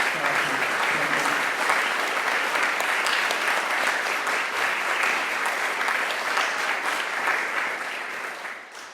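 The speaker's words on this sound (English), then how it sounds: "Can we have a round of applause for my lovely..." A large audience applauds steadily for about nine seconds, a dense, even wash of clapping that holds its level before tapering slightly at the end, with no talking over it.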